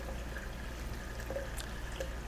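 Water drains from a washing machine hose, pouring and trickling softly and steadily, with a low hum underneath and occasional small splashes.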